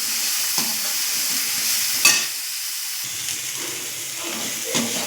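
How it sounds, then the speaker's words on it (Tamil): Onions sauté in a pan for band dosai, a close, even sizzle with occasional stirring clicks and one sharper scrape; a brief hush in the hiss midway, no speech. "வெங்காயம், நல்லா வதங்கட்டும்."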